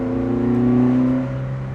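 An Alpine A110 rally car engine with a carbureted sound revs nearby, holding a loud, steady droning note that eases off slightly toward the end.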